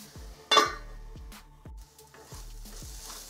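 Onions stirred in a pan over low heat while cooking for an egg omelette curry, with soft sizzling under several spoon scrapes and a sharp clink against the pot.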